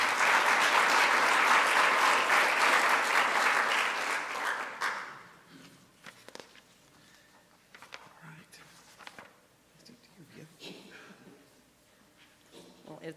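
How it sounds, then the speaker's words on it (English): Audience applause at a community grant awards event swells loudly for about five seconds, then cuts off abruptly into a quiet room with faint shuffles and scattered small noises. "Give a round of applause for that today."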